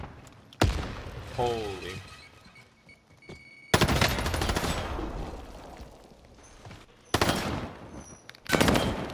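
Bursts of rapid automatic gunfire in Warzone Resurgence, loud and close, arriving in several separate volleys, with a voice speaking briefly between them.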